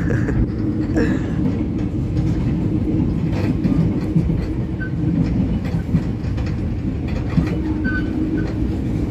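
Cikuray passenger train running on rails at about 59 km/h, a steady continuous rumble of wheels and carriage with faint rattles and occasional light squeaks throughout, heard from inside the car.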